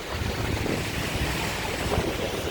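Strong wind roars steadily against the microphone on a Chicago street among buildings during a snowstorm, a loud continuous buffeting rush with no voices.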